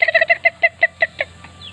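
Chickens at a demo farm cluck in a quick run of loud, evenly spaced calls that slow and fade toward the end, close to the listener.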